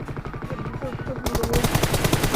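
Automatic gunfire sprays in PUBG Mobile as a fast, rattling burst that grows louder and denser halfway through, with game sounds and faint voices underneath.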